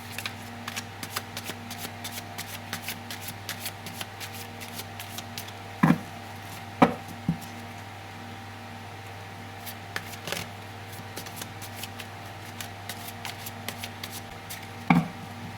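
Tarot cards shuffled by hand during a card reading give a soft, continuous papery riffle, with a few sharp snaps and taps standing out over a faint steady hum.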